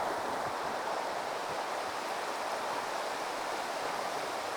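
A creek runs through snowy woods, a steady wash of flowing water heard close by and at even loudness throughout, with no voices.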